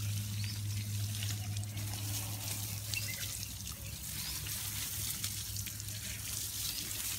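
Water from a hose splashes and trickles steadily onto garden plants outside a house, a continuous close pour with a low hum running underneath and no talking.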